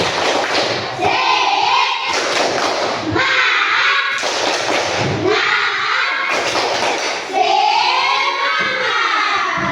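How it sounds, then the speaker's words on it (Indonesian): A class does rhythmic spirit clapping, loud bursts of hand claps and thumps in repeated patterns with brief pauses between groups, with children's voices chanting along. "Tepuk semangat."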